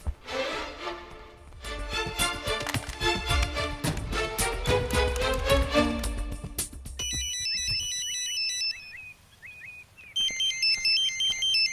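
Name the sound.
phone ringing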